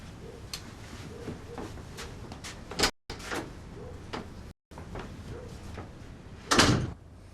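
Knocks and thuds at a door in a domestic room, a few sharp bangs spread across the clip, with a louder impact near the end, fairly close and with no talking over them.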